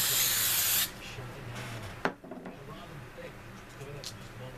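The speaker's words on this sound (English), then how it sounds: "So then I'm going to take my hairspray" A can of hairspray sprays onto a ribbon boutique bow in one loud, close hissing burst lasting under a second, followed by quieter room noise and faint handling sounds.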